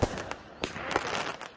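Neighborhood Fourth of July fireworks bursting at night in a rapid, crackling barrage of sharp pops and booms, dense and continuous at moderate distance.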